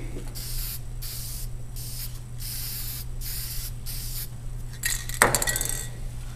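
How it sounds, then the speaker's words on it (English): Repeated short bursts of spray paint hiss close by in a steady rhythm as wood is painted, followed by the rattle of a shaken can near the end. "And that's my first coat of spray paint."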